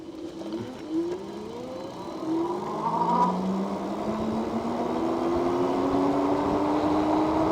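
Yoloway YR20 electric bike, rated 2000 watts peak, accelerating on throttle alone: a rising electric motor whine that climbs steadily in pitch, with road and wind noise building underneath, no talking.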